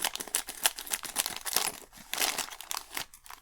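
Crinkly plastic rustling with sharp scissor snips and crunches, close up, as the sealed packaging of an Elenco AM-780K AM radio kit is cut open, in an irregular burst of crackling.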